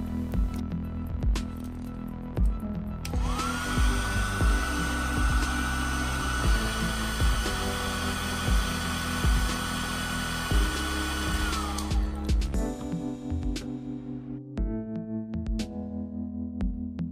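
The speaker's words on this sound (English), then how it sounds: "If you want to save adhesive tape, heat surface with a hairdryer" A steady blowing whine of a hair dryer heating an iPhone X during battery replacement runs for about nine seconds, then cuts off, leaving faint clicks and handling noises.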